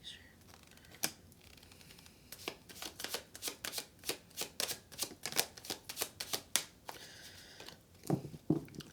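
Tarot cards being handled and shuffled, a quick run of crisp, evenly spaced riffling snaps close by, fairly quiet, with a few softer card taps at the end.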